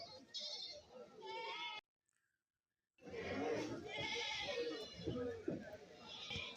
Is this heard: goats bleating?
yes